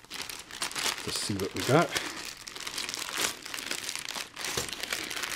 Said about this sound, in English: So let's get out the old Boy Scout knife from 1986 and cut open the tape on this